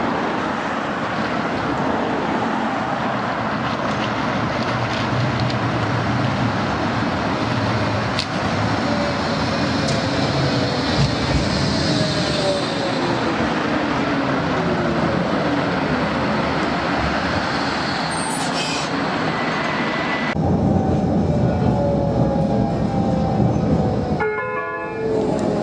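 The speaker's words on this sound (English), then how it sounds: "So let's just watch the tram arrive." A tram rolls in at a stop on the South Fylde line, a long steady rumble with rising and falling wheel squeal and hum. A brief high tone sounds near the end before the noise drops away.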